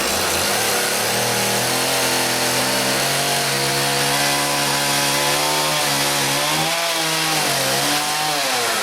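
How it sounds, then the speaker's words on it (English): Chainsaw trimming the ends of a log to length for a simple log trellis, a loud steady engine drone with rising and falling pitch as the cut progresses, close and continuous without talk. "The first thing is to trim the ends of your log so they're the right length."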